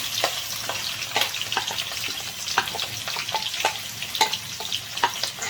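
Sliced onion sizzles in a hot pan over a high flame alongside split green chili, a constant frying hiss broken by frequent sharp crackles and pops, close and moderately quiet.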